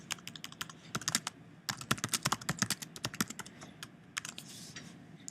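Close, quiet typing on a computer keyboard while writing a comment in Google Docs, a quick uneven stream of key clicks with brief pauses between bursts.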